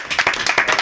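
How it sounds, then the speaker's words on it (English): A short, close burst of clapping, with several quick claps from a small group of hands. "let's give them a round of applause"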